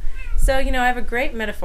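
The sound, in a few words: cat meowing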